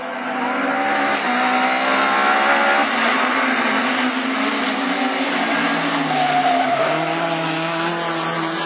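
A Division 4 rallycross race car at Lessay roars past loud and close, its engine note sweeping steadily across the whole stretch with tyre scrub and a falling pitch near the end as it goes by.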